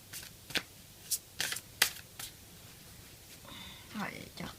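A deck of cards being shuffled in several quick riffling bursts spaced through the first half, close and crisp, followed by softer handling with faint talk near the end.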